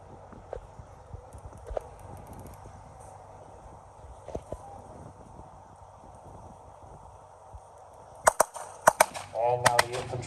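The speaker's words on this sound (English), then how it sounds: "they're being fired upon now" Sharp gunfire cracks crowd the end of a tank battle reenactment at a tank museum, over a rumbling outdoor background with scattered thumps and clatter, then a tight cluster of loud shots in the last two seconds.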